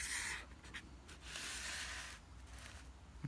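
Marker or chalk being dragged across a board while writing out an integral, a soft continuous rubbing and scratching with short pauses between strokes, close and fairly faint.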